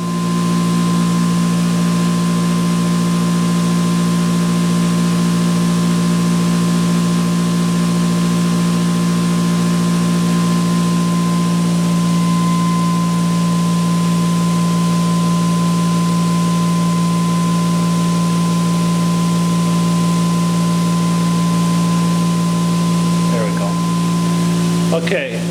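An engine drives a generator with its conventional generator coil switched onto load, making a steady loud mechanical hum with a strong low drone and a constant whine above it, unchanging throughout with a brief rattle at the very end.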